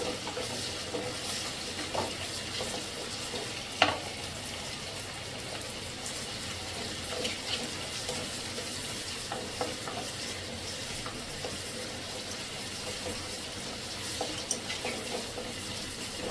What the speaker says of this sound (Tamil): வெங்காயம் பூண்டு எல்லாம் நல்லா வதக்கட்டும்